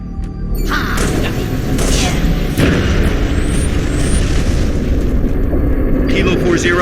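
Rumbling artillery barrage from an FPF strike in Halo Reach, a dense continuous roar of booms and blasts with sharp impacts, loud throughout, under military radio chatter.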